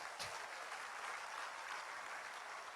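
A church congregation at a Christian sermon applauds in a faint, distant, steady wash of clapping.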